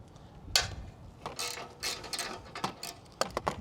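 A socket wrench ratchets on an exhaust nut during a 2-into-1 exhaust install on a Honda Fury motorcycle, making several short bursts of quick clicking with brief pauses between them, fairly close and moderately quiet.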